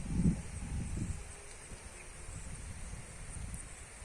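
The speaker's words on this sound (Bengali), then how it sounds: "মোটামুটি হাওয়া চলছে, গাছের পাতা টাতাগুলো নড়ছে।" Wind blowing across an open field stirs tree leaves as storm clouds gather on an early-summer evening: a low gusty rumble that swells early, then settles into a soft, steady rustle with no voices.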